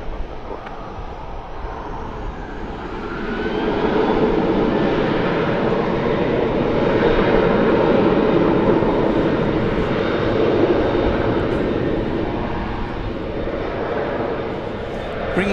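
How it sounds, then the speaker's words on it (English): A Japan Airlines Boeing 777, Flight 12 from Tokyo Haneda, lands at Dallas Fort Worth airport with a steady broadband jet roar that swells near the middle and holds loud throughout, with a voice talking faintly over it. "Japan Airlines Flight 12, a 777."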